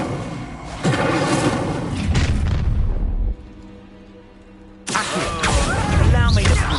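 Incendio fire spell cast in a wizard video game: a loud, booming, fiery blast that drops away into a quieter lull before a second heavy burst roars in.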